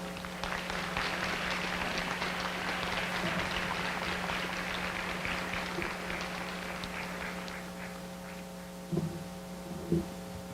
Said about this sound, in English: Thank you for such a warm applause